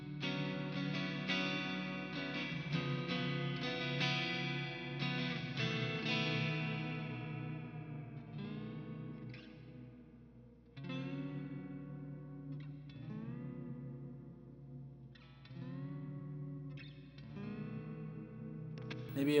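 Electric guitar played on the neck pickup through a reverb pedal, sustained chords and single notes ringing out with a soft wash of reverb and fading tails, close and clean with no voices.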